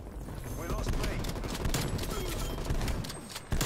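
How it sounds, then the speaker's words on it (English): Rapid bursts of gunfire in a Call of Duty Cold War multiplayer match, dense overlapping shots and explosions filling the mix, with a louder hit near the end. "Where are we getting shot at from?"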